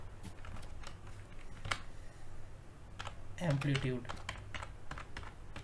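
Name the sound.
typing on a computer keyboard in MATLAB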